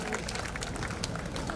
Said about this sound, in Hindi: मैं उस बच्ची के लिए तालियां बजाना चाहता हूं